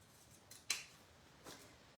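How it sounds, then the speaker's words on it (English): Scissors snip excess paper off a handmade Christmas card, making a few faint, close, crisp cuts with one sharper snip standing out, heard alone in a quiet room. "And then just chop the excess off."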